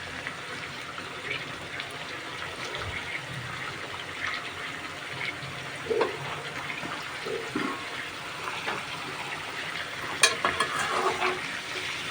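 Noldoga beans frying in a pan with green chilli and turmeric, giving a continuous soft sizzle with occasional stirring scrapes and a few light clinks of a utensil, close up and steady throughout.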